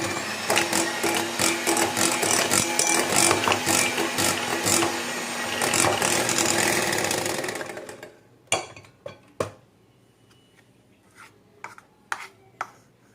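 An electric mixer whips cream for chocolate mousse with a steady, dense whir that runs for about eight seconds, then stops, followed by a few sharp clinks and taps from the bowl.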